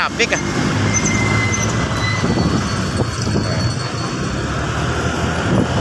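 City road traffic along Magsaysay Road in Iloilo City: a steady roar of passing vehicles and engines close by, with horns and street bustle, while people talk over it.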